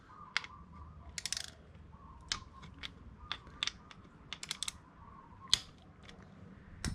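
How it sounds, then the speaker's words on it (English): A Torx T25 driver works loose three bolts holding the front power window motor to its regulator on a 2019 Toyota Sienna, giving scattered sharp ratcheting clicks and creaks over a quiet background. "I'm going to be loosening up these 3 bolts that bolt the motor to the regulator. I'm going to be using a Torx T25 just to loosen it up."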